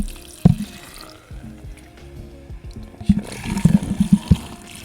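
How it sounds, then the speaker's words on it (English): Four Loko drink is poured over a microphone, giving wet splashes and gurgling liquid sounds: one sharp splash early, quieter trickling, then a cluster of louder irregular splatters close to the mic. "pouring over the microphone"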